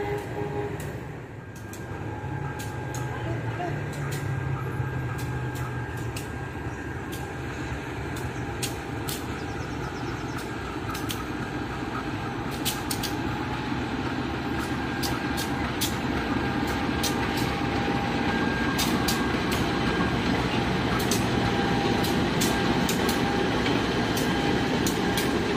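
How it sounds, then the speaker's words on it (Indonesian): Three coupled, brightly colored locomotives roll slowly along rails toward a rail workshop, producing a steady loud rumble with a continuous metallic squeal and repeated clicks of wheels over rail joints. "Nah, ini lokomotif dua garis birunya berhenti di sini."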